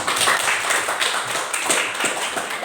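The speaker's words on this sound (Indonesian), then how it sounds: "Berikan tepuk tangan." A classroom group claps together after a group answer in an economics lesson, a loud, close, continuous flurry of many hands with slight rhythmic pulses throughout.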